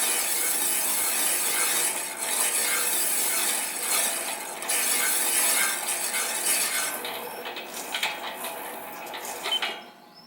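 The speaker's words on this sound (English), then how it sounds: "I decided to sand up to 400 grit, wet and dry" Steady rubbing and scraping of 400 grit wet and dry abrasive paper on a cast steam engine flywheel in a home machine shop, continuous and fairly close, easing slightly in the final seconds.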